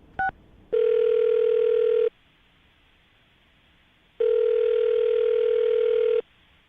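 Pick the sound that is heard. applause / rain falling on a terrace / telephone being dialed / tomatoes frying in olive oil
telephone being dialed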